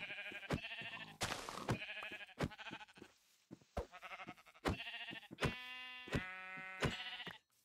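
Minecraft sheep bleat repeatedly in bursts, roughly a dozen nasal, wavering calls at irregular intervals, loud and near, with a brief scuffing noise early on.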